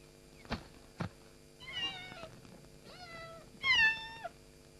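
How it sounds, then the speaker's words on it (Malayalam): A cat and her kittens meow several times, fairly faint and close by. The distinct rising and falling cries follow a couple of soft taps, with no talk. "എന്റെ കുഞ്ഞു പൂച്ചേനും കുഞ്ഞുങ്ങളെയും കാണണോ?"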